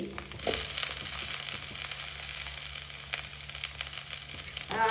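Grated coconut is added to chicken sukka frying in a pan, producing a close, continuous crackling sizzle with bursts of rustling and scraping as the mix is stirred, and no talking.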